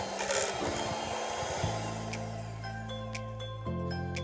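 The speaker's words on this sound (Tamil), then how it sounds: "அதுக்கப்புறமா ஒரு வாட்டி ஸ்லோ ஸ்பீடில் பிளெண்ட் பண்ணிக்கோங்க." A mixer blends marble cake batter with oil at slow speed, first with some scraping and rubbing, then settling into a steady low motor hum that runs evenly for a couple of seconds before shifting.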